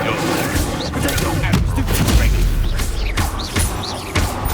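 Incendio fire spell cast in Hogwarts Legacy, loud dense bursts of blasts and crashing impacts with a rumbling low end, game combat clutter throughout and a voice talking over it.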